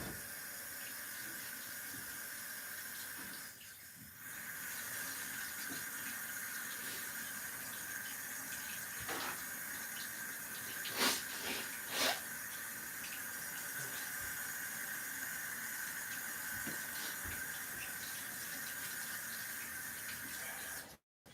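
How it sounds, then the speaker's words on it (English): Hands are washed under a running kitchen tap while cooking, a steady close hiss of flowing water that carries on almost unbroken, with a few brief clatters partway through. "Let me wash my hands."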